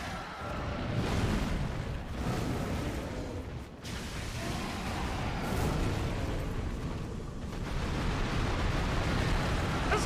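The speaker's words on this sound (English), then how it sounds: "Oh, he shot explosions at me." An enemy in the Dark Souls 3 DLC firing explosive blasts, a dense, loud roaring rumble of overlapping booms and bursts sustained for several seconds with brief dips between waves.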